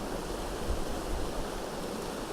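Steady broadband rush of a waterfall, continuous and even at moderate level with a low rumble underneath, no voices.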